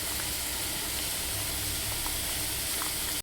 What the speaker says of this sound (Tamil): சாம்பார் நல்லா கொதிச்சுக்கிட்டு இருக்கு